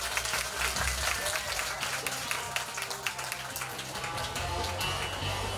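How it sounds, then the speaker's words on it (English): Event audience applause at a charity swim opening address, a full crowd clapping with many sharp, close individual claps over a dense continuous bed, sustained for several seconds with faint murmuring underneath. "let's give a big round of applause for Clement."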